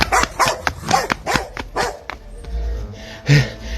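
A dog barks in a quick run of loud, close yaps, then pauses and lets out one more sharp bark with some whimpering, with no talking over it.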